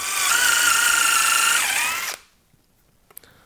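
A power drill whirs loudly and steadily for about two seconds, dips briefly in pitch, then winds down to quiet, followed by a couple of faint clicks.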